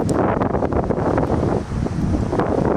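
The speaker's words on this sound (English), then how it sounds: "Windy right now." Strong inflow wind near a supercell thunderstorm roars steadily across the microphone in heavy, continuous gusts, with no voices.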